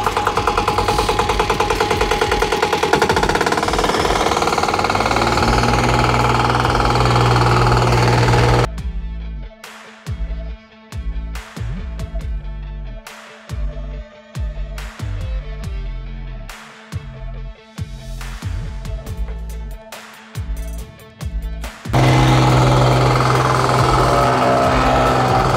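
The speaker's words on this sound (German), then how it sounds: "dass die Rüttelplatte mal noch eine halbe Minute wenigstens nachlaufen" A vibratory plate compactor runs on a garden path, its engine thumping and rattling loudly and steadily, easing into a choppier idling rhythm midway before returning to full vibration, with no talking.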